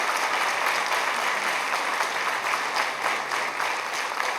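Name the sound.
audience applause at a recital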